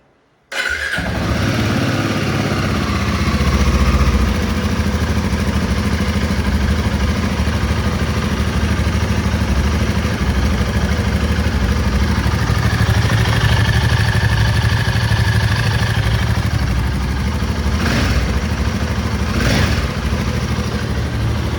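A Royal Enfield Himalayan 450 motorcycle fires up from cold and settles into a steady, loud, close idle, a continuous throbbing rumble lasting the whole stretch with no talking.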